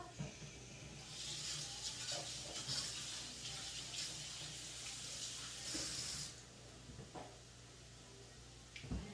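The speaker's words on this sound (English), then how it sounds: "I'm just gonna give my hands a quick wash." A kitchen tap runs as hands are washed under it, a steady hissing stream of water close by for several seconds before it shuts off, followed by a few faint clinks.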